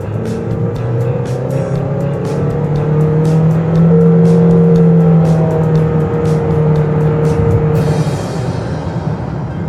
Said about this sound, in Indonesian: Akan kita kick down ya.